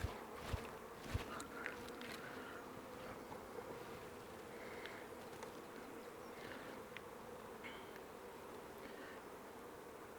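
Dense, steady buzzing of many honeybees swarming close by around hive frames, a continuous drone with occasional louder passes of individual bees.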